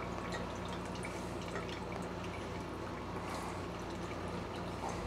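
Fluid flowing and dripping through a faulty valve on a Troybilt push mower, a steady continuous trickle with a faint background hum.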